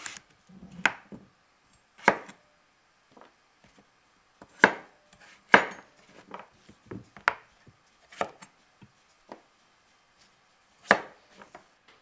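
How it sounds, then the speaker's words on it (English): A knife chopping squash into roughly 1-inch pieces on a board: sharp, isolated thuds spaced irregularly about a second apart, close and clear against near silence. "Cutting the squash in half first makes it easier, safer, and ensures that all of the pieces are roughly the same size."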